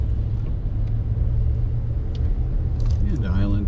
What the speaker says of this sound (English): And lots of traffic too.